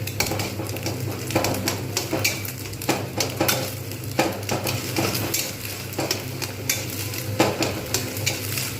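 Egg frying in a pan for restaurant-style mixed fried rice, a steady close sizzle broken by repeated scraping and stirring strokes of a utensil against the pan, with no voices.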